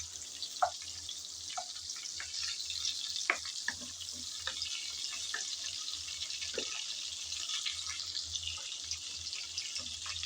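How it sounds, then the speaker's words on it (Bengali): Prawns fry in oil while being stirred, giving a faint, steady background sizzle broken by scattered soft clicks and scrapes of a spatula against the pan. "দু 3 মিনিট নেড়ে চেড়ে চিংড়ি ভেজে নিলাম।"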